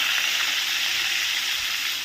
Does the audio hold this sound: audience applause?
no